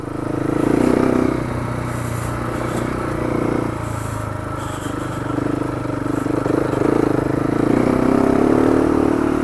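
KTM 690 Enduro motorcycle ridden on a mountain road in Oregon, its single-cylinder engine droning loud and close, with the throttle swelling and easing and light clatter from the ride, no talking.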